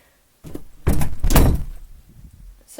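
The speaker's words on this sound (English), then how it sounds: "let's close the door." Room door being shut close by, a soft rustle, then a firm thunk of the door closing and a short rattle fading out.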